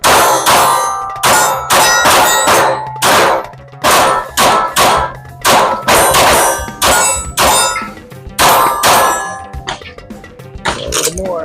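Gunshots from an AR-15 rifle and a Mossberg 590 shotgun ringing off a steel gong target, loud repeated sharp clangs in an irregular series of about a dozen hits, each trailing a short metallic ring.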